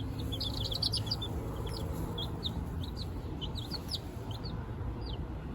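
Young chicks kept as backyard city chickens, cheeping in quick, high, scattered peeps over a low steady hum, several birds calling close by and overlapping.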